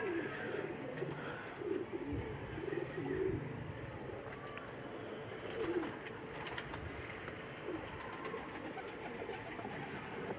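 Breed and migratory pigeons in Sukkur, Pakistan, cooing softly amid a dense, continuous murmur of many birds, with faint rustles and clicks in the background.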